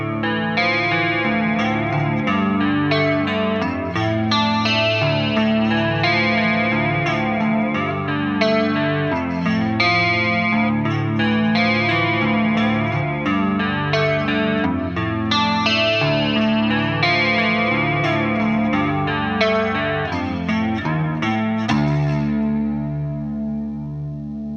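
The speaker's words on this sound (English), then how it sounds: "Without the EQ in, the guitar sounds like this." Clean electric guitar passage played with no EQ pedal in the chain, steady strummed chords with chorus-like shimmer, loud and continuous before fading at the end, no voices.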